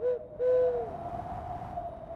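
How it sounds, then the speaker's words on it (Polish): A snowy owl gives two sustained, tonal hoots, a short one and then a longer one, followed by a softer, drawn-out call over a faint background hiss. "To puchacz śnieżny."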